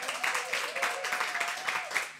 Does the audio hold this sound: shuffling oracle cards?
no